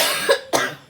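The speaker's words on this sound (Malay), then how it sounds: "Dah batuk dah." Two sharp coughs in quick succession from a nearby person, the second a bit stronger, with a short raspy tail and no talking.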